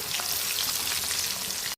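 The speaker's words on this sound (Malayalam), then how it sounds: "ഇപ്പോൾ ചിക്കൻ പൊരിക്കാൻ വന്നിട്ടോ" Watery chicken pieces fry in a pan with a steady, close, crackling sizzle of bright hiss and small pops, cutting off abruptly at the end, with no voices.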